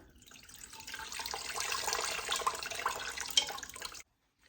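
Water splashes and streams off a blanched cabbage lifted from a pot, a steady trickling pour for several seconds that stops abruptly.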